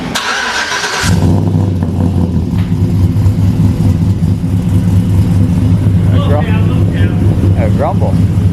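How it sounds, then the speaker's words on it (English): A cammed engine in a manual two-wheel-drive single-cab pickup truck starts with a burst, then settles into a loud, steady, lumpy idle rumble that continues throughout, with faint chirps above it near the end. "It's a Cam 4, so it sounds real nice."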